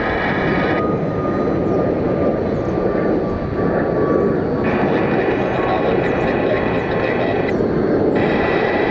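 A loud Boeing 737 MAX jet roars steadily close by, a continuous broadband rush with a high whine, taking off from Cleveland without any voices.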